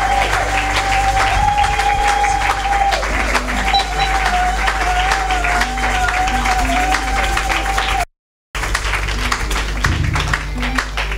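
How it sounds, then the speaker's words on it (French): Church audience at a deliverance and healing crusade applauding and cheering for Jesus, a loud, dense wash of clapping and crowd noise with a sustained organ-like tone above it, briefly cut out near the end before resuming. "Est-ce qu'on peut acclamer pour Jésus?"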